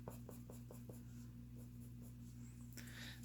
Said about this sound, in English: And making sure my pencils overlap the other areas.